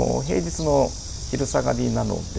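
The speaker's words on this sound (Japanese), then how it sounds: "セミの声とかもこう聞こえるので" Cicadas drone steadily in a small, leafy park with lotus ponds near Fanling Station in Hong Kong on a hot summer afternoon, a faint continuous buzz sitting beneath someone talking close by.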